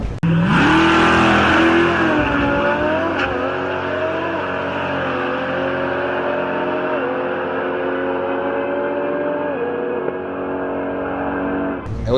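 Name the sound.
twin turbo 1500 horsepower Lamborghini racing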